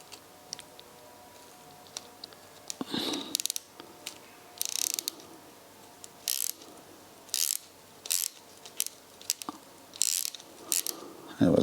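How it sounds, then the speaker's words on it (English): A wrench ratchets in short bursts of clicking as a lock nut is tightened on a rocker of an old rusty engine being rebuilt, close and alone with pauses between pulls. "And then I'm going to lock that nut, which is the counter nut that prevents it."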